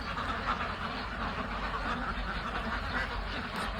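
Ducks at a duck farm quacking as a flock, a steady, dense chorus of calls that runs throughout at moderate loudness.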